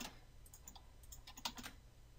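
Computer keyboard typing while building a K.I.T.T. Knight Rider model in Blender, a quick run of light clicks and keystrokes with one louder tap, close and alone with no talk.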